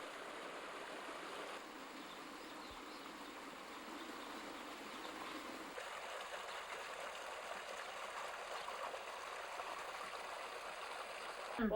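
A stream flows in and around a town in Ladakh, a soft, continuous wash of running water heard from a modest distance, even and unbroken throughout.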